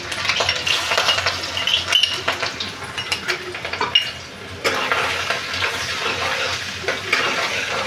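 Ginger and garlic sauté in hot oil for hakka noodles, with a steady sizzling hiss under repeated scraping and clinking of a metal spatula against the pan, close and fairly loud.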